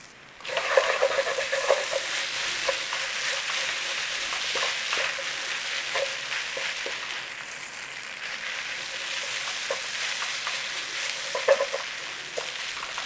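Chicken chow mein stir-frying over high heat, a steady dense sizzle with scattered clinks and scrapes of a utensil turning the noodles, close and continuous with no talk.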